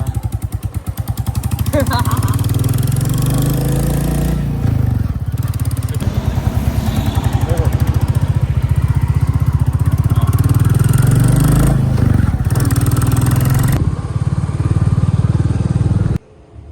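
A motorcycle engine runs loudly and steadily at low speed for most of the clip, with people talking over it, then cuts off near the end.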